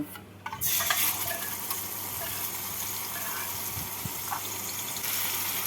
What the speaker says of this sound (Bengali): মশলাটা দিয়ে ভালো করে কষিয়ে নেব